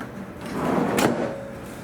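Yeti drawer slide on a DIY teardrop trailer rolling open or shut in one smooth sliding motion, close by, ending in a brief sharp knock.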